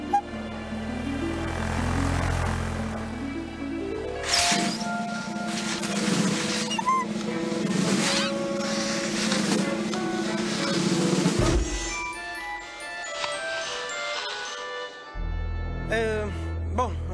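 A cartoon helicopter takes off vertically with a rising rotor whir, then loud, steady chopping over lively music, cut off abruptly near the end.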